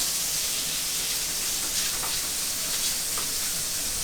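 Meat browning in a pan for Japanese omurice gives a steady, even sizzle with faint crackles, close and continuous and without talk.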